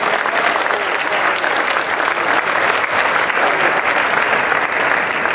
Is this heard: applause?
yes